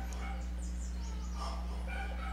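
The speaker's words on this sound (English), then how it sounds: "Sorry if you hear my dogs in the background." Dogs yip and bark faintly in the background of a home, a few short high calls over a steady low hum, with no talking.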